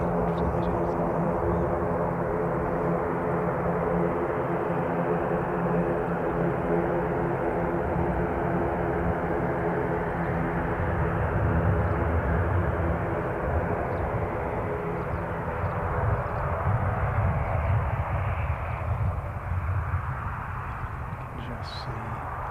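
Airliner on a Dunedin-bound flight at Christchurch Airport, New Zealand, with a steady, loud engine roar that holds for over twenty seconds before easing slightly, heard from the apron area.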